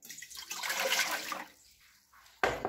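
Water poured into a pan while cooking Indonesian garlic peanut snacks, a steady splashing pour that swells and fades over about a second and a half, then a brief renewed splash at the end.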